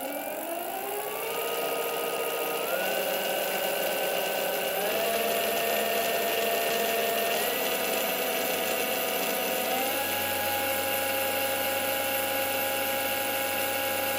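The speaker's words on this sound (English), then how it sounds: "no drivetrain, just motor." Free-spinning BBSHD e-bike mid-drive motor with its nylon gear and no drivetrain gives a continuous, fairly loud whine that rises in pitch in steps as it speeds up, then holds steady, alone without talk.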